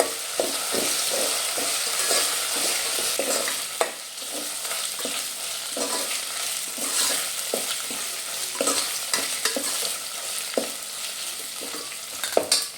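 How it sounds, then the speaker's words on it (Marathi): Onions frying in a pan for masala mutton, stirred until reddish: a continuous hiss of hot oil with repeated scraping and tapping strokes from a spatula, close and steady throughout. "दोन ते तीन मिनटं आपल्याला चांगलं लालसर कांदा करून द्यायचा आहे"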